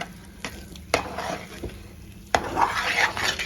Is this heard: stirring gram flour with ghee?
yes